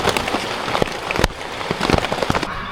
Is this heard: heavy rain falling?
yes